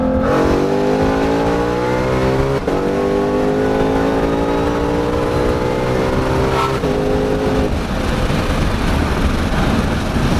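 A car accelerates hard through its gears, revving toward an 8,000 rpm limit; the engine's loud, rising pitch sweeps up and drops at each of several shifts, close and steady throughout.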